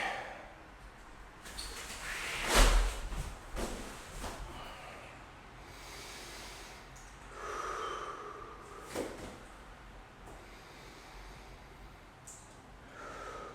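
Slow, deep relaxed breaths during a passive hip stretch, with a sharp snort-like exhale early on and softer inhales and exhales spaced through a quiet room.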